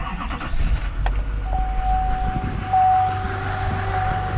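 A Duramax diesel pickup truck engine cranks and catches, then settles into a steady low idle nearby, with a faint whine over the rumble.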